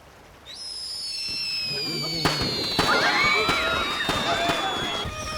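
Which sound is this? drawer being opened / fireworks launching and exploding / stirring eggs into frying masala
fireworks launching and exploding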